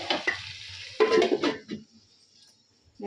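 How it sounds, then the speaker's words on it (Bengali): Potatoes stir-fried with nearly cooked meat in a pan, with loud scraping stirs of a metal spatula against the pan over a sizzle, two bursts of stirring separated by a quieter stretch. "তো আলুটাও এর মধ্যে দিয়ে দিয়েছি তো আর একটু কষাবো"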